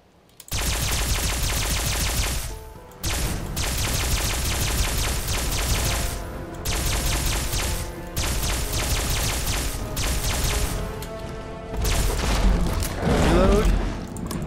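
Alien blaster fired in Fallout 4, rapid bursts of sharp energy-weapon shots in long rattling strings separated by short pauses, loud and close, with game noises mixed in.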